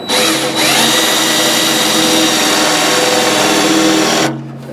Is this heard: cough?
no